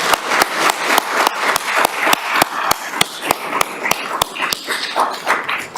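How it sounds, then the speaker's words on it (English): Applause for the panelists at a chamber of commerce economic development event: a roomful of hands clapping steadily and densely, with sharp, regularly spaced thumping hits cutting through the wash throughout. "let's give our panelists a big round of applause here"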